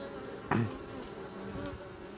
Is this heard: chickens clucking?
no